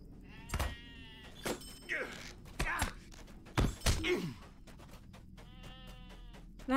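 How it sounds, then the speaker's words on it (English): Several short sheep bleats at irregular intervals, some harmonic and drawn out, mixed with dull thumps over a low steady background hum, in the video game Lord of the Rings Online. "There's a bunch of sheep in here."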